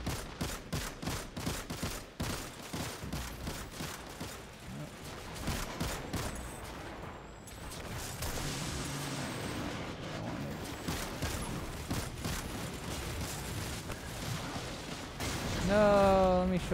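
Rapid, steady gunfire in Destiny 2 aimed at an approaching ship, a dense run of repeated shots that thins into rumbling game ambience before a swelling burst near the end, with a voice talking over it.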